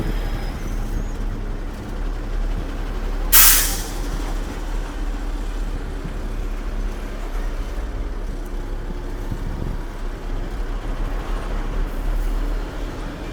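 A loaded lorry carrying eighty bales approaches on a ghat section road, a steady heavy engine rumble that continues throughout, broken by one sharp hissing burst early on.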